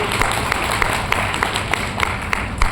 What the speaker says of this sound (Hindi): एक जोरदार ताली आप सभी अपने लिए बजा सकते हैं।